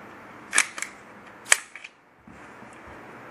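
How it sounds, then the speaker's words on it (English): Sharp metallic clicks and snaps as a Glock pistol is broken down, with two loud clacks close by and a few lighter clicks between them, then quiet. "First thing we're going to do is break the pistol down."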